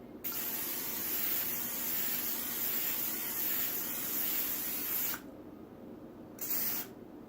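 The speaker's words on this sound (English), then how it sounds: "Now the neat thing about spraying these darn things" Cooking spray hisses onto a baking pan for cookies in a long, steady, close spray lasting about five seconds, followed by a brief second short burst after a pause.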